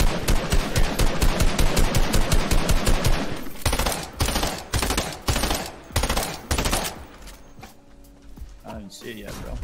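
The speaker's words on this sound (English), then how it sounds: "I'm gonna shoot this airdrop." Rapid automatic gunfire in Fortnite pro trio scrims, aimed at an airdrop: loud, dense bursts of shots that thin into spaced volleys, with voices talking underneath.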